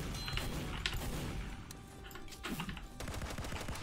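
Rapid gunfire in the team shooter Team Fortress 2 on a Halloween map, repeated near shots and bursts layered over busy game noise throughout.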